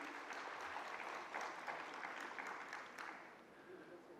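An audience at the inaugural session of a media conclave in Delhi claps steadily and evenly for about four seconds, the applause soft and somewhat distant before it tapers slightly at the end.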